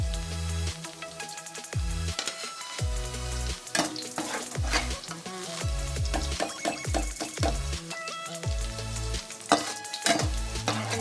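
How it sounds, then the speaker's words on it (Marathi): Steady sizzling of paneer frying in hot oil, with a spatula stirring and clinking against the pan, over background music. "पनीर एकदम छान फ्राय झालेले आहेत"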